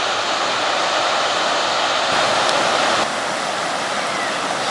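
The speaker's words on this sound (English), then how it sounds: "Standing by the Little Annan River" The Little Annan River in the Daintree Rainforest near Cooktown on Cape York rushes loudly and steadily, a dense close roar of flowing water with no voices.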